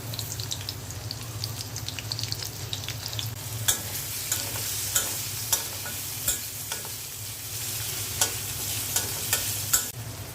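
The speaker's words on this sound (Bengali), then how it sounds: "মাছ ভাজা তেলের মধ্যে পেঁয়াজটা দিয়ে দিচ্ছি।" Onions dropped into oil left from frying prawns, sizzling steadily up close in a wok, with sharp intermittent clacks of a spatula stirring and no talk.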